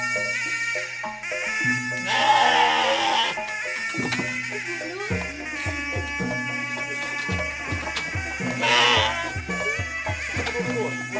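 Garut ram sheep at a ram-fighting training ground in Garut bleat over a busy background of music and crowd noise, with loud bursts near the start and end and people talking.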